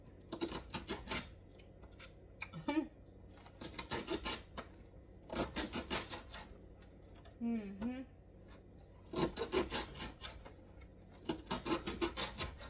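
A knife cuts garden okra into inch-long pieces in short bursts of rapid, quiet crunching clicks, with a voice speaking between the bursts.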